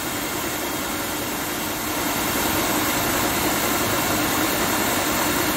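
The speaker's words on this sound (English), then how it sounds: "This is a high speed induction motor, 3-phase. It runs at 2800 RPM normally. Now I'm running it with my generator." A high-speed 3-phase induction motor running on a generator, giving a steady, loud, broadband whirring hum with a faint tonal drone. It grows slightly louder partway through and has no talk.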